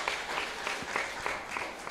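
Applause from a listening audience at a Buddhist monk's talk, a moderate, even patter of many hands clapping with faint rhythmic pulses and no speech over it.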